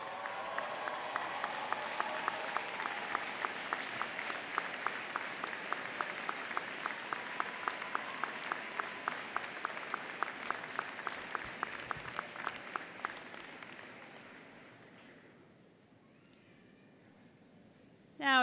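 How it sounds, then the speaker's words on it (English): A large commencement crowd at Brandeis applauds families and friends, a long wash of clapping joined by rhythmic unison claps that slowly dies away into quiet, followed by a brief sound at the very end. "acknowledge that support with a big round of applause"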